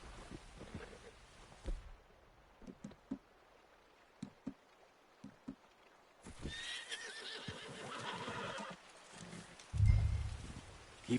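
A horse whinnies and its hooves clip-clop in the video game Red Dead Redemption 2, with scattered hoof thuds and a loud whinny near the end over an outdoor ambience, no talking.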